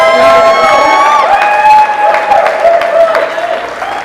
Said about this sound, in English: can we all give a round of applause to our beautiful